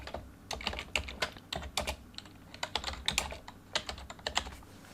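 Rapid clicking of keys on a computer keyboard, an uneven stream of sharp taps at close range with no talking.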